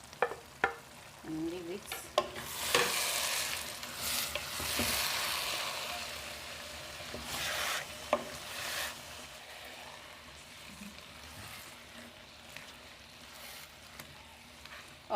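Onions frying in a pot of kontomire stew give off a steady hiss and sizzle that swells for several seconds, broken up by utensil scrapes and stirring clatter, while a voice briefly speaks.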